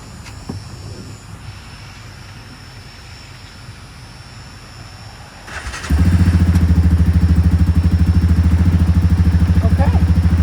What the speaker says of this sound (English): We got it fixed now, so we're gonna crank it up, give it a little cold start feeling to it.